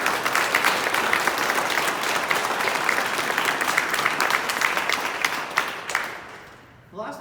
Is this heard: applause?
yes